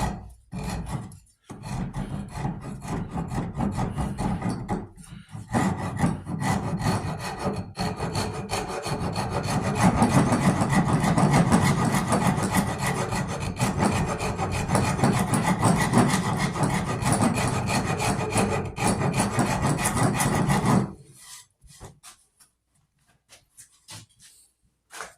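A homemade half-round rasp smoothing wood inside a .50 caliber St. Louis Hawken rifle stock, steady scraping strokes in a rough rhythm, close and fairly loud, stopping near the end with a few faint scrapes after.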